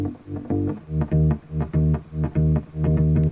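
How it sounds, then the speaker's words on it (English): A deep bass guitar plays a tight, rhythmic line of short, punchy notes in a repeating groove, heard alone. "That's just a real bass, just chopped together so it's more tight."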